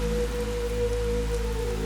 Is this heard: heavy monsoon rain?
yes